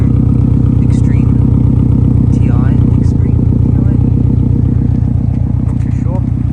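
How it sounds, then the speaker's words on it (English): A 2011 Subaru Impreza WRX STI sedan with a full aftermarket exhaust, Cobb intake and tuner idles loudly and close by in a deep, steady, throbbing burble while someone talks over it. "obviously, as you can tell, you have a full exhaust system"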